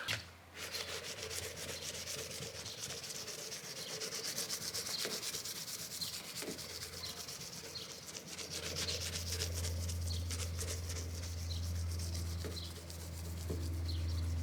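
Clay bar rubbed across the painted body of a Mitsubishi Pajero, a steady close-up friction hiss that scrapes on for the whole stretch, with a low hum building underneath in the second half.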